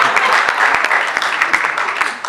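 Applause from an audience at a comedy show, a steady dense wash of clapping with sharper individual claps standing out, continuous and fairly loud throughout.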